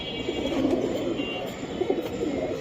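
Platinum Hammer pigeon giving soft, repeated coos at a pigeon seller's, the low calls pulsing close by beneath someone talking.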